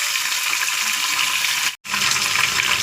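Chopped onion hitting a hot pan of oil with cumin and curry leaves for an aloo batani kurma, a steady loud hiss and sizzle that runs throughout, with one brief break partway.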